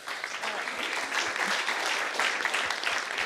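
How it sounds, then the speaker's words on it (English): An audience gives a round of applause for a speaker at the close of a hydrogen conference session, a steady, full clapping that fills the room for a few seconds without speech. "And another round of applause for Nicole."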